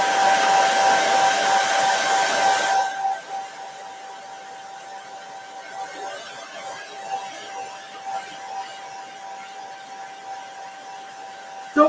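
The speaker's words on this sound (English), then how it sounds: "I'm going to grab my hair dryer" Hair dryer blowing over a chalk transfer on a wooden door craft piece: a loud steady whooshing roar with a whining tone for about three seconds, then cut off, leaving a faint hum and quiet rustling.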